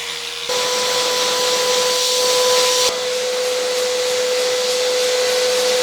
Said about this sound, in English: I'm always vacuuming in two directions because the fibers are going in one direction or the other